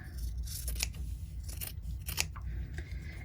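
Scissors snipping loose threads from a folded triangle fabric coaster, close by, a quick series of short crisp cuts at an uneven rhythm with no talking.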